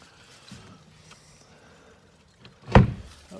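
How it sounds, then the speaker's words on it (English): A door closing at a spring water collection site, heard as one loud, close thud near the end after quiet handling noises, with no talk. "We get the door closed up here."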